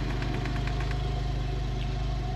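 A Porsche 911 Carrera S (991.1, PDK) with switchable sports exhaust idles steadily with a deep, rumbling exhaust tone and a slight rhythmic pulse, close and continuous with no talking.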